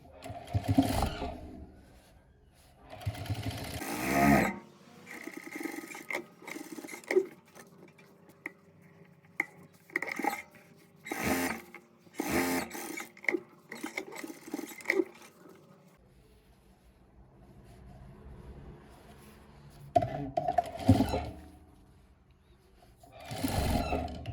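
Domestic sewing machine stitching a fabric potholder made from scrap cloth, running in several separate bursts of rapid whirring ticks with quiet pauses between them.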